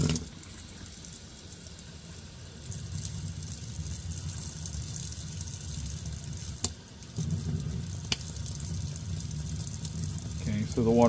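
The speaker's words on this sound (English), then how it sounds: "Let's go ahead and turn the water on." Steady broadband rush of water running from a tap into a Thermomate ES150B 1.32-gallon mini tank water heater, continuous and fairly close, with a couple of brief clicks and a slight surge near the end.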